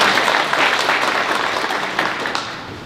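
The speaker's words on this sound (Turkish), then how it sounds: "Ben huzurlarınızda bu arkadaşları birer kere daha alkışlamanızı istiyorum" An audience at a ceremony distributing milking machines to farmers in Bingöl, Türkiye, gives sustained applause, a thick even roar of many hands clapping that fades slightly toward the end.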